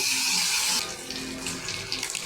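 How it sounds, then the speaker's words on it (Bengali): Fish rubbed with salt and turmeric are dropped into hot oil in a kadai for a fish curry with water lily stems, giving a loud, bright sizzling hiss that fades to a steady, softer crackle. "এবার মাছগুলো আমি দিয়ে দেবো সব মাছ ভেজে নেব"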